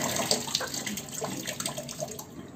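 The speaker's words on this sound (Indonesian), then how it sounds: "saya hidupkan airnya ya" Water running steadily from a tap where a washing machine hose is being connected, a continuous close splashing rush at moderate loudness.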